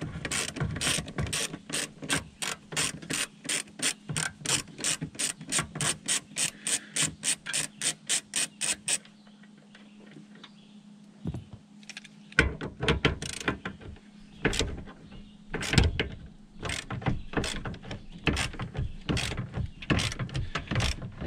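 Hand ratchet turning seat bolts in a third-gen Dodge Ram Cummins pickup: a long run of rapid, evenly spaced clicks, a brief pause, then slower, irregular bursts of ratcheting, close and loud.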